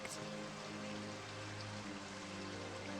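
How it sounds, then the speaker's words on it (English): Soft, steady rainfall from the ambient effects of the visual novel Virche Evermore, a quiet, even patter with faint sustained tones underneath and no talking. "I love the rain effect."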